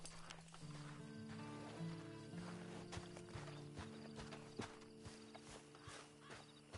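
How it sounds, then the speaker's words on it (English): Horse hooves in the Red Dead Redemption 2 video game, a steady clip-clop of a walking horse under a low musical drone and background game ambience, fairly quiet. "And you better get on this horse."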